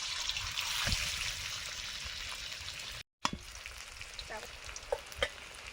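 Potato filling frying in mustard oil, a steady, fairly quiet sizzle with a brief silent break partway through, followed by a few soft scraping stirs.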